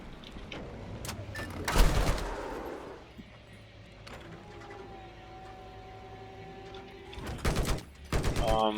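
Gunfire in the Battlefield 4 video game: bursts of shots and blasts near the start, then quieter rumbling and a sustained tone, with more rapid firing toward the end.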